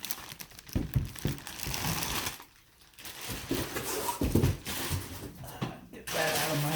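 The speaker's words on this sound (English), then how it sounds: "We're going to take her out of the plastic bag." Plastic bag crinkles and rustles in bursts close to the microphone as a figure is unboxed, pausing briefly once, with faint voices in the background.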